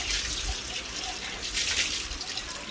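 Tap water runs and splashes over a cleaned, previously scorched milk pot in a sink, making a steady close rush with small spattering surges and no talking.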